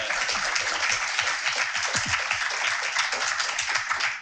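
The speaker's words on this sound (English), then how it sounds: "Please welcome our guests with a warm round of applause." Steady, dense applause from an audience welcoming guests to a university startup founders panel, clapping continuously and fairly close throughout with no pauses.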